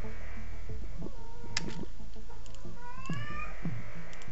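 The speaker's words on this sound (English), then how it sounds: "Sorry about my cat." A house cat meows repeatedly nearby in short, separate cries spread across the moment, over a constant low hum and a few faint clicks.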